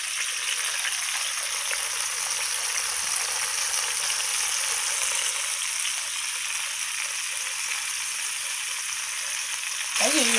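Vegetarian meat is lightly pan-fried in hot oil, giving a dense, continuous hiss and crackle that stays even and close throughout.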